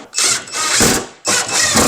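A ratcheting tool tightens bolts on a Focus RS rear wing fitted to a Ford Focus ST, giving two close bursts of quick mechanical clicking separated by a short pause.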